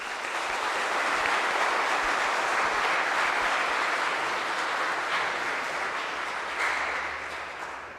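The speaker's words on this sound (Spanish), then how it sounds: "Un aplauso a Jesús." Congregation applause during a Holy Hour service at church, a sustained, even roar of many people clapping that stays strong before easing off at the end.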